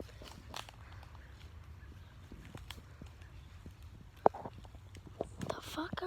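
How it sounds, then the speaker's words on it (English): Footsteps of someone unseen outdoors near holes and broken glass bottles, a series of soft irregular steps and scuffs with a sharp click partway through, moderately close, while a person murmurs quietly. "There's like footsteps that aren't mine."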